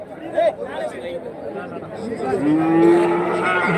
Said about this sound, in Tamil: எக்கச்சக்கமான மாடுங்க தெரியுது